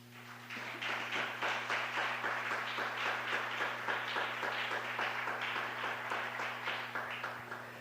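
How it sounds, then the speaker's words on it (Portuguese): A church congregation applauds together, a sustained, dense wash of rapid claps at even loudness throughout, set over a steady low electrical hum from the sound system. "Aplauda Jesus."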